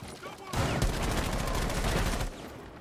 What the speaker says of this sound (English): That was an excessive amount of bullets for one dude.